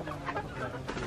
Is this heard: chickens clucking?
yes